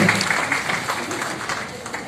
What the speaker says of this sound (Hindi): तो एक बार तालियां भी डबल होनी चाहिए इन दोनों के लिए आप सबकी तरफ से।